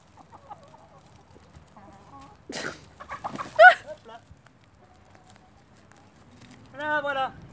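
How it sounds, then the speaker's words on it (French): Hens cluck in soft, scattered calls, with a louder flurry in the middle and a rising cackle near the end. Someone speaks quietly nearby. "Alors les poules, c'est les femelles"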